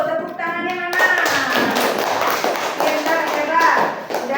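A group of children claps hands in a classroom, a dense burst of rapid claps that follows a teacher's voice and carries on under scattered talk.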